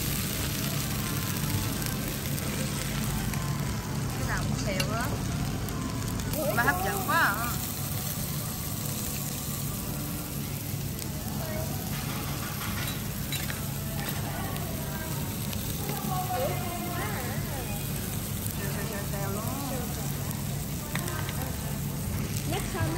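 Rice and noodles (cơm xèo, mì xèo) sizzle loudly and steadily on a hot plate, a close, continuous crackling hiss that runs the full length while someone talks intermittently over it.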